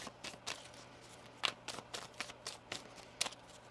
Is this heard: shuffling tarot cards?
yes